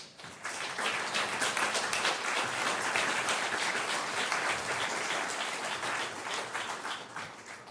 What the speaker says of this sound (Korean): 우리 축하의 환영의 박수 부탁합니다